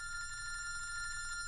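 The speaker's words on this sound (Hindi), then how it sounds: "फोन उठा, मेरा फोन उठा।" A telephone rings with a steady electronic trilling tone, fairly quiet and continuous, with no one talking.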